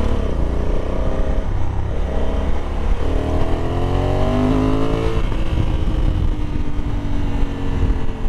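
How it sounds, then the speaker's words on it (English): A 2021 Honda Africa Twin 1100 Adventure Sports ES DCT motorcycle rides in sport mode, its engine droning steadily with pitch climbing and shifting through gears, wind rumble close and constant. "See, in sport mode, it holds the gears pretty well"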